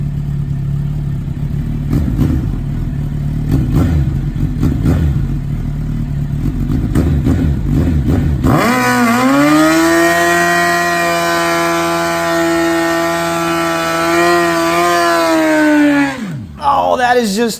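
Suzuki Hayabusa motorcycle with a Brock's Performance exhaust, a rough throbbing idle that rises into a loud, sustained high rev before dropping back, close and alone.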